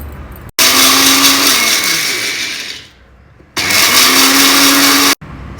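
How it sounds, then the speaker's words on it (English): An electric spice grinder jar whirs loudly as it grinds roasted spices with pink salt in two long bursts, the motor pitch dropping as it winds down between runs, with a short quiet gap and abrupt starts and stops. "When cool, we'll make it into a powder in our spice jar."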